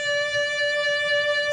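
A violin sustains one clear note with quick, narrow vibrato, the pitch shimmering rapidly in a steady tone for a brief moment.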